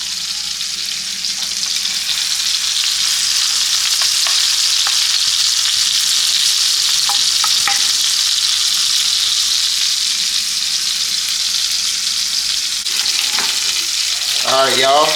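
A New York strip steak seasoned with salt and pepper sears loudly in a pan, a dense continuous sizzle with a few soft clicks of handling and a brief scrape near the end.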